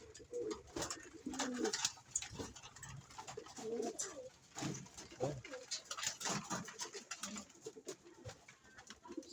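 Pigeons cooing in a loft of fancy pigeons, soft repeated throaty coos close by with a voice speaking intermittently over them.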